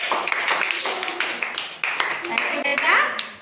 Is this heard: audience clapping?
yes